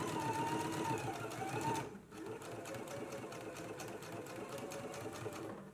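A sewing machine stitches a narrow hem close to the inner fold of a dress, running loud and steady, pausing briefly near the two-second mark, then continuing in a dense, rapid mechanical whir.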